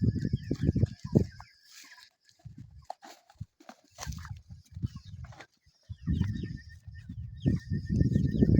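Broiler chickens in a movable farm pen cluck and murmur in irregular bursts close by, with short gaps of quiet and a faint higher chirping in the background.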